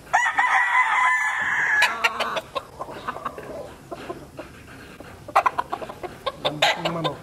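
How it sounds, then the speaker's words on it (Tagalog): A Claret White Boston stag gamefowl rooster crows one loud, near call at the start, then gives a string of short, sharp clucks and scratchy calls. "Ganda pong manok."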